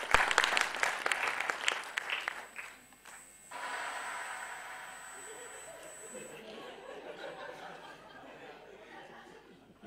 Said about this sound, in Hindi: जोरदार तालियां प्लीज एहसान खुशी जी।